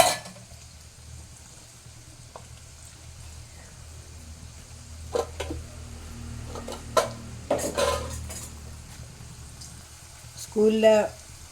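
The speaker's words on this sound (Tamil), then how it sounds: "பொரித்து இதில் உப்பும் மிளகுத்தூள் போட்டு பொரித்து சாப்பிடணும்." Dried vathal tubers frying in hot oil, a steady soft sizzle running throughout, with occasional clinks of a utensil against the pan and brief louder bursts of crackling toward the end.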